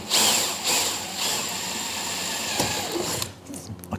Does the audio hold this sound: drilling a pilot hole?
yes